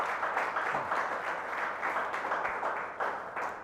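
A church congregation claps loudly in thanksgiving, steady dense applause throughout, fairly near and unbroken.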